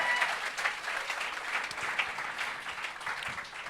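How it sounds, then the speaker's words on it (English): Audience at a live concert applauds steadily for the venue tech, a dense, even clapping wash with a few cheers, sustained throughout at moderate distance. "Can we get a round of applause for Beth, our tech, ladies and gentlemen?"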